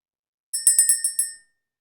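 A small hand bell rung several times in quick succession, about six bright, ringing strikes over a second, each fading briefly before the next, alone in otherwise silent surroundings.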